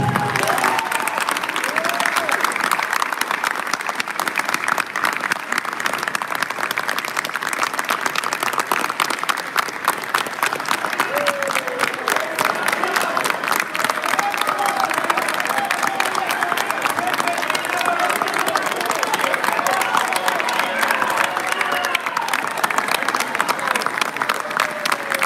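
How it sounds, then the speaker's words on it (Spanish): Large crowd at a rally in Los Angeles claps and cheers continuously, a steady roar of applause with shouts and whistles rising above it, and voices heard among the crowd. "Un aplauso para ustedes."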